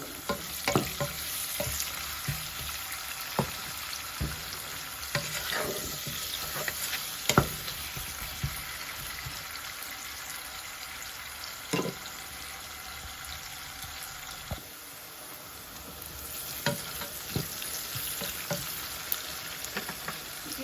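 Salted onions frying in a pan for a Bengali kakrol and rohu fish curry, a steady close sizzle broken by occasional scraping stirs, with no voices.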